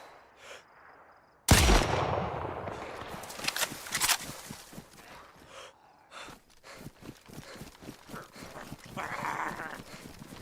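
Gunfire in a zombie survival video game: a sharp, loud shot followed by several more close reports and quick footstep-like thuds, with faint background noise between them.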